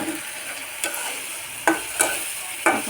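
Shingi fish pieces go into curry frying in a pan, setting off a soft steady sizzle punctuated by several sharper bursts of crackling as they hit the hot oil and are stirred, close up.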